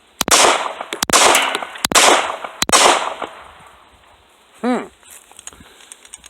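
A Ruger 9E pistol fires four sharp, loud shots in quick succession, each cracking and then ringing off. Quiet follows, broken by a brief voice-like sound near the end.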